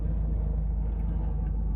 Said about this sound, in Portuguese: E hoje passou, não foi carro, foi helicóptero.